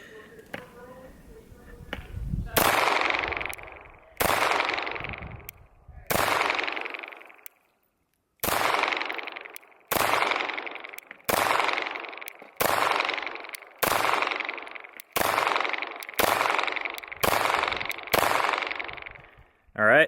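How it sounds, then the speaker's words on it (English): A CZ SP-01 Tactical pistol fires about a dozen loud, sharp shots outdoors at a slow, even pace, each crack trailing off into a long echo. "we'll give a couple of shots as well, just to show the functioning of it here"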